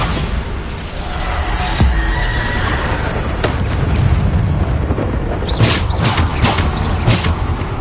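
Booming spell blasts from the Bombarda explosion spell in the Hogwarts Legacy video game, a dense rumbling barrage with sharp bursts around the middle and a run of brighter cracks near the end.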